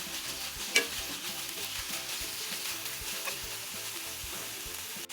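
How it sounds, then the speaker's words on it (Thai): Beef stir-fried in Thai curry paste over medium heat, with a steady, even sizzle and faint scraping of the utensil throughout and one sharper clack near the start. No voices. "เมื่อพริกแกงหอมแล้วใส่เนื้อลงไป เราจะใช้ไฟปานกลาง เราจะคั่วไปเรื่อยๆ จนกว่าเนื้อจะกลิ้งค่ะ"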